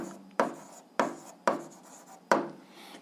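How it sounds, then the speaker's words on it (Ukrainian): Pen strokes scratching across paper as a math solution for an eighth-grade algebra exercise is written out, four firm strokes in a steady rhythm, close and clear with no talk. "записуємо"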